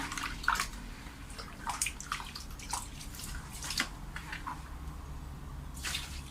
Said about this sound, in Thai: ล้างจนทรายเป็นสีขาวเลยนะคะ